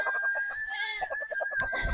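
A rooster kept with a hen gives a run of quick, close clucks over a steady high tone, with a sharper call near the end.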